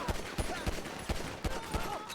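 GTA 5 gunfight with a steady series of about seven evenly spaced shots at moderate loudness over game background noise.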